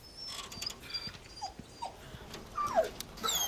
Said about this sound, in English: There's that dog!